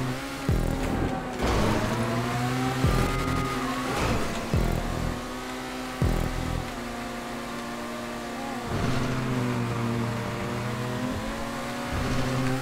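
Car engine racing a lap in GTA 5 Online, a steady loud drone with harmonic lines rising and falling as gears shift, brief dips between pulls, continuous throughout with no talk.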